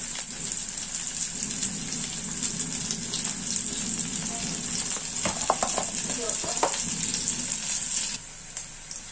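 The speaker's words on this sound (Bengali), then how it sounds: "পেঁয়াজটা ভাজা হয়ে গিয়েছে" Onion frying in a pan with green chili, a steady close sizzle with brief stirring scrapes partway through, then the sizzle drops slightly near the end.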